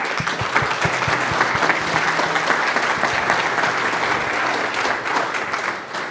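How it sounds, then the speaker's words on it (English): A conference audience applauds a panel at a FinOps event, loud continuous clapping with a few sharp nearby claps standing out early, sustained for several seconds. "little primer round of applause for our panel here"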